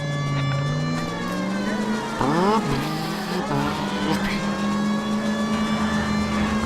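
Car engine in the L.A. Noire video game revs while climbing a hill, a steady loud drone with pitch swells and a sharp rising surge midway, heard alone without talk.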